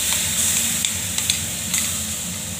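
Red potato paste hits melted butter in a wok, giving a close, steady sizzle and hiss with a few sharp spits and clicks as it is stirred, no voices over it.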